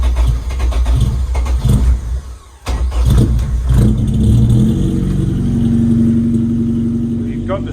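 A race car being readied for the track cranks and starts, its engine catching with a burst, cutting out briefly, then firing again into a loud, steady rumble with revving, close by and dominating.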